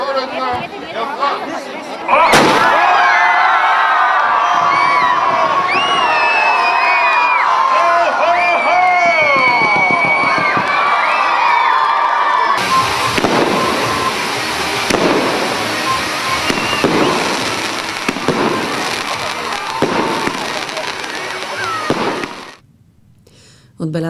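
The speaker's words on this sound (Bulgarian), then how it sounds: "Тържеството завърши с красиви илюминации и фойерверки." Fireworks at a Christmas tree lighting celebration in Shumen crackle and whistle continuously, with sharp bursts rising over a chattering, cheering crowd for over twenty seconds.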